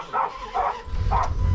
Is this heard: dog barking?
yes